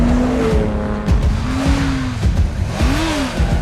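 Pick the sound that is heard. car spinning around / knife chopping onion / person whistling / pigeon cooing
car spinning around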